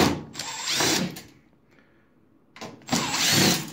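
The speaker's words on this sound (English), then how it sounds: "So what we do is we take these screws out here." Power drill backing screws out of a microwave vent bracket on a wall vent fitted through vinyl siding: two loud whirring bursts of the drill motor, close up, separated by a quiet pause.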